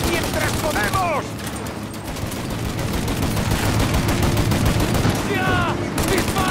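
Sustained rapid turret fire in Mafia: Definitive Edition, a steady loud chatter of shots running the whole time, with voices calling out over the shooting.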